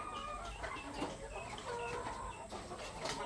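Laying hens cluck softly and repeatedly in a coop, a low murmuring chorus of short clucks with occasional louder calls, heard close by without talk.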